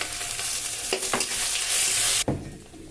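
Bay leaf, cardamom, cloves, dried red chillies, panch phoron and ginger paste sizzle steadily in hot oil in a home kitchen, the loud frying hiss broken by a few stirring scrapes and a sharp drop near the end.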